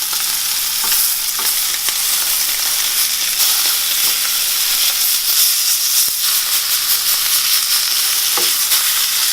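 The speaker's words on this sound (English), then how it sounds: "Sear it on your sides." Steak sears in a hot pan, a loud, dense, continuous sizzle and hiss close up, with a few faint scrapes and no voices.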